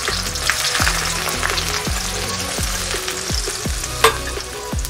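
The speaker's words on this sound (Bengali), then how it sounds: "এখন আমি দিয়ে দিব পেঁয়াজ, গরম হয়ে গেছে, এখন দিয়ে দিব পেঁয়াজ।" Onions frying in hot oil in a wok for a spicy beef liver curry, a steady loud sizzle with repeated sharp scrapes of a spatula stirring at a regular rhythm, no talk.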